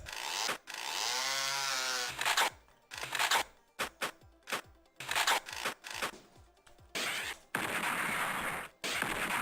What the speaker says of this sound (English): the chainsaw has a pretty low priority in the sound queue, so as soon as I pick something up, the chainsaw sound ends.